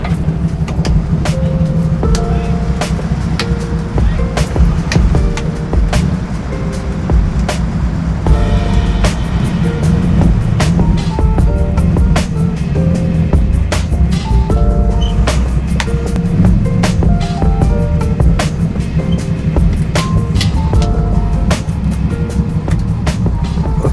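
A 1959 Ferrari 250 GT Pininfarina being driven, its engine a loud, steady rumble from inside the car with shifting tones and frequent clicks and rattles, continuous throughout without speech.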